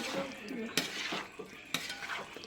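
Mayonnaise chicken stirred in a pan: scraping and clinking of a utensil against metal, with two sharp knocks, over a faint sizzle, close up and steady.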